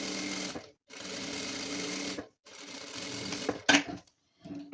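A sewing machine stitches the edges of a stretch velour chair cover in three continuous runs of fast, even mechanical whirring, separated by short pauses, with a brief clack near the end.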